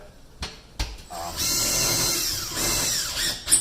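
A power drill drives screws through metal wall angle into drywall while an acoustical ceiling grid is installed, with a short whirring burst after a couple of clicks, then a steady loud run of about two seconds and a trailing whine.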